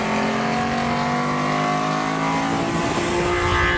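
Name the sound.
Prince S20 2-liter straight-six engine revving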